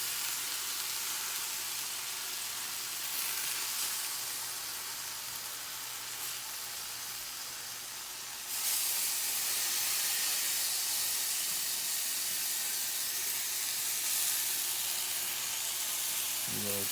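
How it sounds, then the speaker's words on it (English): Fire-roasted tomatoes hiss in a hot pan in a steady, bright sizzle that lasts throughout and grows louder about halfway, close and continuous with no clear talking. "I'm just going to transfer them to the pan here."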